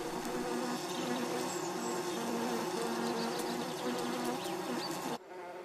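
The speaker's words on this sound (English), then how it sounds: "The honeybee." Honeybees buzz in a dense, steady drone with wavering pitch close by, continuing without a break for about five seconds before the sound cuts off abruptly.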